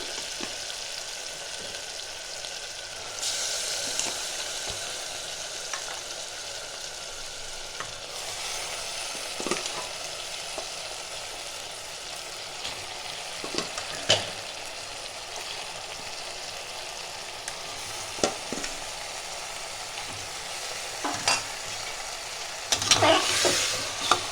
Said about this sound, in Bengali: এটা হাই ফ্লেমে আমি 5 মিনিট একটু ভালো করে ভাজা ভাজা করে নেব।